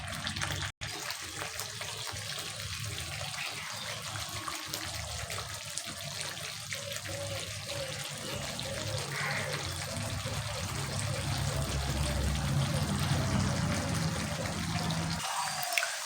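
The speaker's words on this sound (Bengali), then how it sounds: "এবারে কিন্তু এর মধ্যে আমি জল দিয়ে দেবো।" Steady stream of water pouring into a pan of pabda fish curry, a continuous close trickling and splashing that holds for the whole stretch with no talk.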